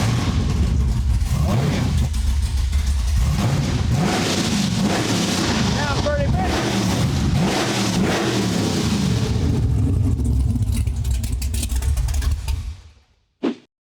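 The big-motor 1971 Chevy Caprice running open headers roars loud and close, a rough rumbling rev that holds steady for about twelve seconds, drops off sharply, then gives one short final blip.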